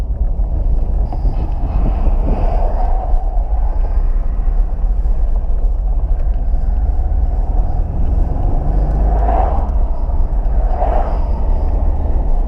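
An old third-generation Pontiac Firebird cruises in fourth gear, its engine and road rumble steady and low beneath constant wind buffeting, with no voices and no change in pace throughout.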